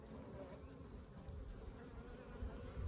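Honeybees buzz around an open hive during a spring check, a continuous, close, soft droning hum with small swells in loudness.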